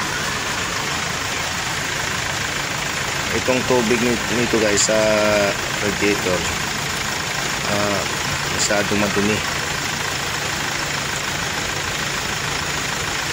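A Hyundai Starex engine idles steadily after a top overhaul, a continuous low hum running throughout while someone talks over it in the middle of the stretch.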